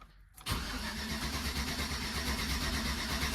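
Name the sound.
2013 Chevy Tahoe 5.3 LS engine cranking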